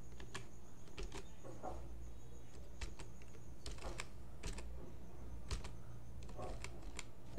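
Keys on a computer keyboard click as a map scale value is typed in, a quick, light run of taps that is close but faint over a steady background hiss.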